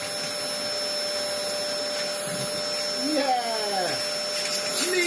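A Dyson vacuum cleaner runs with weak suction at the wand, a steady close whine and whoosh throughout, with some rising whistling tones toward the end.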